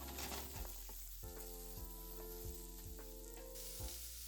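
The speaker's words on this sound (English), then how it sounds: "I stir-fry the carrot until it becomes brown as well." Carrot stir-frying in oil in a pan makes a steady loud sizzle, and a utensil scrapes the pan in regular strokes roughly every half second.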